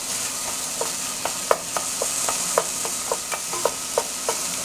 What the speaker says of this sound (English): And you want to keep this going so you don't burn that garlic.